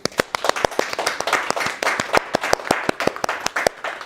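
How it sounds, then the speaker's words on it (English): Enthusiastic applause from a crowd, dense steady clapping with sharp individual claps standing out, lasting several seconds. "Really big round of applause for Kev, Emily, Joey and Lee."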